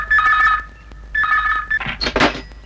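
A telephone rings in two short electronic trills separated by a pause, followed by a few thumps and rustling handling sounds as the handset is picked up.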